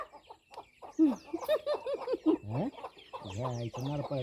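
A hen with her chicks clucks in a series of close, uneven calls mixed with short squawks, while people talk nearby.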